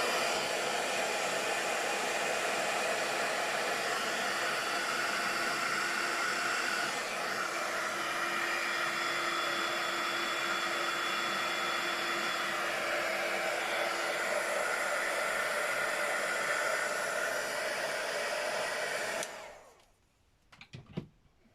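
A hair dryer blows steadily and loudly at close range for about nineteen seconds while drying paint on craft tags, then cuts off abruptly, leaving brief faint handling noise.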